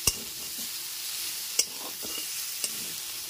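Sliced tomatoes fry with ginger and garlic in a pan, giving a soft continuous sizzle cut by a few sharp clicks and scrapes of a spoon stirring against the pan.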